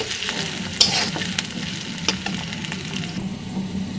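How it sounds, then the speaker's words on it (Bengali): Onions fry in hot oil with cloves, cardamom, bay leaf and cinnamon for khichdi with buffalo meat, a loud, steady close sizzle with occasional stirring scrapes and clicks, no voices. "পেঁয়াজটাকে ভালোভাবে ভেজে নেব।"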